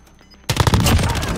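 A sudden burst of rapid automatic gunfire erupts in Call of Duty: Modern Warfare Warzone. After a quiet start, loud, dense shots follow one another without a break.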